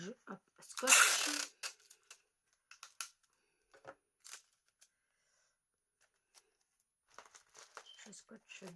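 Adhesive tape rips off the roll in one loud, brief tearing burst as a package is sealed, followed by soft crinkles and scattered handling taps, with quiet talk now and then.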